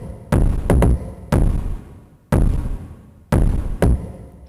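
Two layered kick drums with reverb in an Ableton electronic track, heavy booming thuds arriving in pairs and singles with long decaying tails, loud and alone without any voices.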